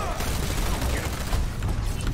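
Gunfire in the video game Overwatch, a dense, continuous crackle of rapid shots in a short burst, loud and close, with a faint voice underneath.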